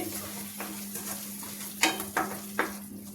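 Tomatoes fry in a pan with a steady soft sizzle and a low hum in the background, and a few sharp stirring scrapes come near the end.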